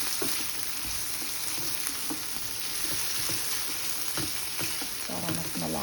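Meat browns in a frying pan for lomi, a constant close hissing sizzle with a few light utensil taps and a brief voice near the end.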